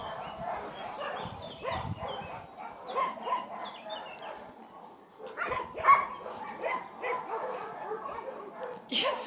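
Two dogs bark and yip in short irregular bursts, with some whimpering between, moderately close and fairly quiet overall, with faint voices mixed in.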